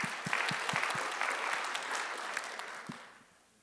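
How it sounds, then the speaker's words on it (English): Applause from a meeting audience in a community room, several sharp nearby claps over a steady wash of clapping that fades out within a few seconds. "give yourself a round of applause"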